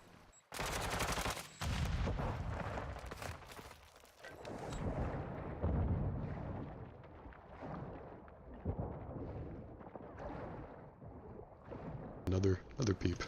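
Gunfire from the video game Call of Duty, bursts of loud shots and rapid fire mixed with game effects, while a player talks over it.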